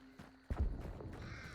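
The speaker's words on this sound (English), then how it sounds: "heard some crows" Crows give a few short caws outdoors at a distance, faint and scattered over quiet ground noise and a soft thud.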